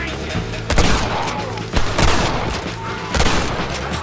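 Gunfire in the Western video game Red Dead Redemption: several loud, sharp gunshots ring out at irregular intervals, each cracking over a steady bed of game ambience and music.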